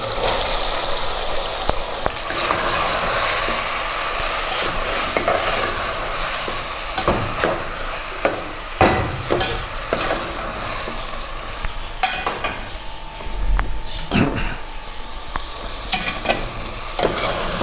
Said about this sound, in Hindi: अब हम इसमें गोभी ऐड करते हैं और दम लगाते हैं